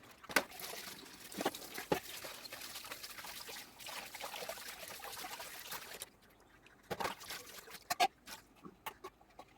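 Fish pieces rinsed by hand in several changes of water, with sloshing, trickling and pouring, plus scattered sharp splashes and clatters, close by and fairly quiet, with no talking.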